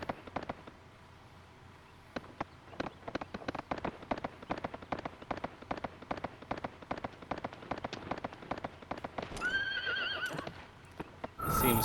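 A horse in the Suikoden III video game gallops with fast, steady hoofbeats, then whinnies loudly near the end, a close, crisp game sound effect.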